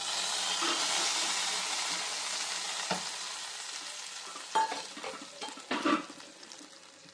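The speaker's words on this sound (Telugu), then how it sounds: "జీడిపప్పుల్ని ఇలా వేయించుకొని దీన్ని మనము పొంగలిలో వేసుకుందాం" Cashews fry in a pan for sweet pongal, a steady close sizzle with stirring clatters and spoon knocks growing more frequent toward the end, no talking.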